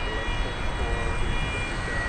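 Steady, droning whine of an aircraft auxiliary power unit at DFW Airport, a siren-like tone running continuously at moderate volume over rumbling apron noise, with no talk.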